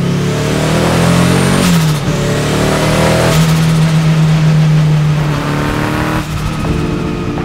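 A turbocharged, high-compression 2.7 liter methanol Volkswagen Type 4 engine in a roughly 400 horsepower Beetle revs hard and close, rising and falling in loud sustained pulls with brief dips between.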